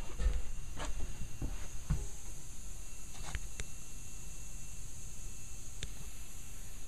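Pressurized air hisses from a leaking gasket on a compressor tank repaired with JB Weld, pumped to about 110 psi. The faint, steady hiss continues alone, with a few scattered clicks and knocks.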